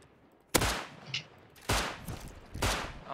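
Three loud, sharp bursts of gunfire from a firefight in the survival video game Rust, spaced about a second apart, each with a short ringing tail and no talk over them.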